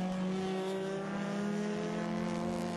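Touring cars from the US Touring Car Championship, including a Mazda RX-8 and a Mini Cooper S, accelerate together off the race start. A loud, continuous, layered engine drone holds steady throughout.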